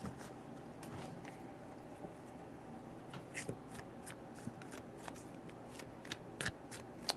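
A deck of tarot cards is shuffled close by, quiet repeated riffling flicks and soft card snaps in quick irregular bursts.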